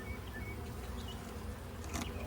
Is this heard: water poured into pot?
no